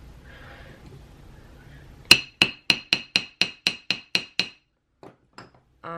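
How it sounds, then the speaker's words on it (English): Ten sharp metallic hammer strikes on copper wire ring out in a quick, even rhythm, each with a bright clink, followed by a few fainter taps. "I'm only hammering it for texture"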